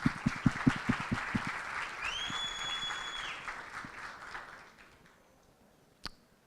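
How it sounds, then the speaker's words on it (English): Conference audience applauds, with sharp individual claps at first that thin into fading clapping, a brief whistle-like tone in the middle and a single knock near the end. "let's give Damien an applause for all the effort that he put into this conference."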